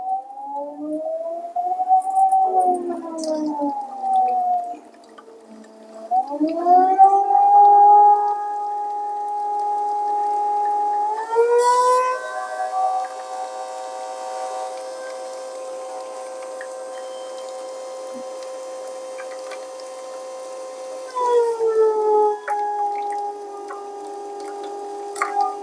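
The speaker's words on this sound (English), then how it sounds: "I'm just going to do manual and let you hear the pump." Gear pump of a VBM Domobar Super Electronic dual-boiler espresso machine running in manual mode, a loud sustained tonal whine that bends and shifts in pitch as pressure changes, with faint dripping and trickling over a long stretch.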